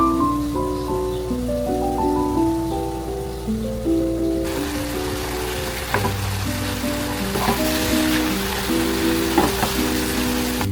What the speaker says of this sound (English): It's just a really quick saute.